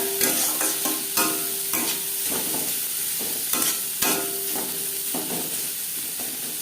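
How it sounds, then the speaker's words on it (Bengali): Chopped onions frying with turmeric in a hot pan, a constant bright sizzle with steady stirring scrapes and occasional louder clatters, close up with no voices. "পেঁয়াজ লালচে করে ভেজে নেব"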